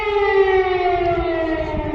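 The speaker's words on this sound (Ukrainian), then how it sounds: "Повітряна тривога." Air raid civil defense siren in Kyiv wailing loud and steady, one sustained rising-and-falling tone held throughout with no voices over it.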